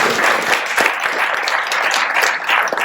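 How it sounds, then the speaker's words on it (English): An audience gives Richard Simon a round of applause at the Rector's Forum, a thick, continuous wash of clapping from a roomful of people, loud and even for the whole moment. "Let's give Richard a round of applause."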